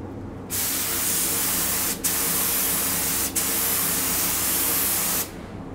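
A conventional paint spray gun blasting thinned finish, a loud steady hiss that runs for several seconds with two brief breaks, close to the microphone.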